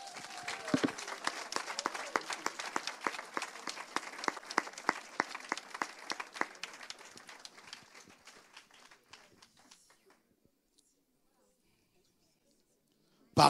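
A church congregation applauds together in a steady, dense patter of claps that thins out and stops after several seconds, leaving quiet before a brief loud burst at the very end.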